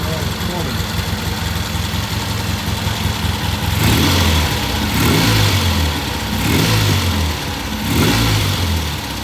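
A vintage British motorcycle engine fires for its first start after timing and carburetor adjustment, idling then revving in repeated swells, loud and close, with a voice talking over it.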